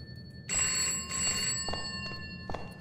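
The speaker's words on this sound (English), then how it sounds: "Okay, I hear a phone." A telephone rings inside the video game Bokkie, a bright electronic trill in repeated bursts of ringing, moderately loud over a low background hum, with no talking.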